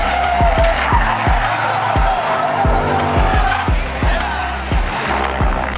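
A rear-wheel-drive car oversteers on a racing circuit, tires skidding and squealing in a loud, sustained screech under a droning engine, with repeated rhythmic thumps as it slides through the corner.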